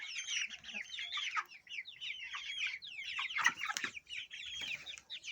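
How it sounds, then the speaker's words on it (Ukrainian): A small flock of naked neck chicks about a month old clucks and chatters continuously nearby, several birds overlapping in a busy, fairly quiet murmur. "А це вже мої голошики, це їм більш місяця."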